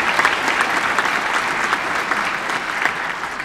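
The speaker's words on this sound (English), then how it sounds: "can we give them a round of applause as well?" At a school music department winter concert, a crowd applauds steadily and fairly loudly throughout, a dense patter of many hands clapping with no pauses.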